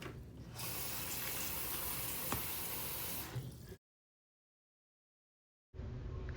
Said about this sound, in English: So now you can put some more water in it.